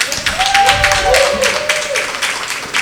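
An audience at a live music celebration claps in a dense, steady patter of applause, while a voice talks over it and a brief sung or whistled tone rises above the crowd.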